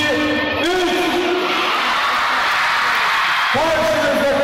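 Crowd at a nighttime lantern parade in Konya shouting together for a cat costume character, a sustained loud mass of voices with rising whoops near the start and again toward the end.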